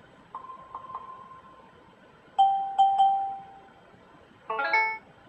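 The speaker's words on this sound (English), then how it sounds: "We could set our warning sounds now, and there's quite a few to choose from." Warning chimes from a TomTom GO 2505 GPS navigator, several different short electronic tones playing one after another, a soft triple ding, then brighter louder dings, then a rising rippling jingle, clear and close over quiet background hiss.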